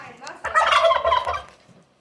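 A young rooster makes a strained crowing attempt up close, rising into a loud, rough, broken call that fades out near the end. No one speaks over it.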